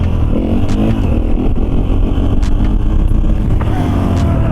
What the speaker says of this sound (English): With the 4-stroke it goes brr, brr, brr, brr, brr.